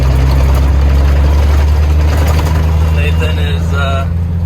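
A tractor engine idles close by with a steady, heavy low rumble throughout, while people talk over it.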